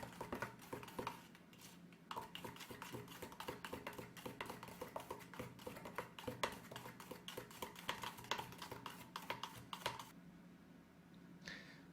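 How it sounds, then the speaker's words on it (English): Clear gesso stirred in its container, a rapid series of close, sharp ticking taps and scrapes against the sides, continuing for about ten seconds before stopping. "Now I'm just going to give it a good stir."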